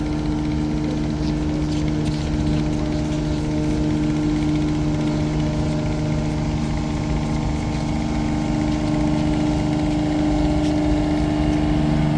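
A riverboat engine drones steadily on the Kirtankhola river near Beltola ghat, with a launch passing nearby; a continuous low rumble with steady tonal hum holds throughout at a fairly close, even level.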